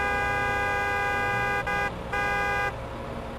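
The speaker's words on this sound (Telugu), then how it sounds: "సూపర్ స్పీడో హారన్ కొట్టు." A cartoon car horn sounds in long, loud, sustained honks broken by brief gaps, with a vehicle engine humming underneath.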